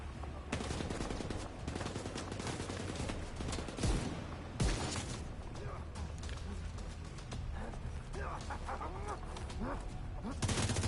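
Gunshots in The Division 2 shooter game: a couple of sharp, loud cracks stand out against continuous, busy game noise, with a voice talking at times.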